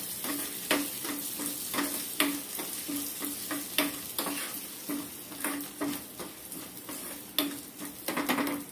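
Urad dal dry-roasting in a pan gives a steady, close crackling hiss, broken by regular scraping clicks as it is stirred, with no voices.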